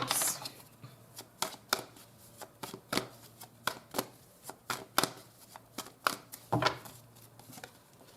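Tarot cards being shuffled by hand during a reading, a steady run of crisp riffling bursts roughly every half second, close and fairly quiet, with no talking over them.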